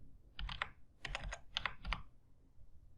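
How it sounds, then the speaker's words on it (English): Fingers typing on a computer keyboard in short bursts of quick clicking keystrokes, close and fairly quiet, separated by brief pauses. "we just need to type this formula in Python"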